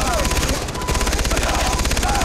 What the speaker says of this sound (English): the fire rate on this LMG, guys, is insane